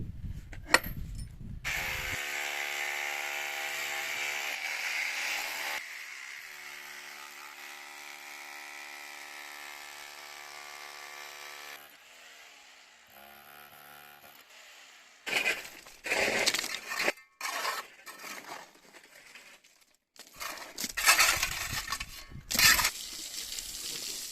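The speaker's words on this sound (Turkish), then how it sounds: "Şimdi de e, yalağın ortasına aşağıya giderek delik açıyor." Stonework tools cutting a hole down into the middle of a stone water trough, heard as a long grinding drone followed by irregular close knocks, scrapes and crunching impacts, with no talking.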